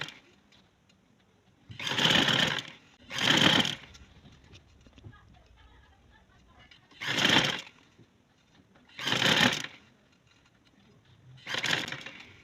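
Sewing machine stitching stretched elastic onto the waistband of trousers over buckram, in five short separate bursts over a quiet room background, close and without speech.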